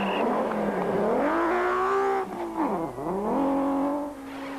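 BMW rally cars on a Cape Rally stage in 2001, engines revving hard and rising in pitch, dropping sharply on a gear change or lift, then climbing again, loud and close.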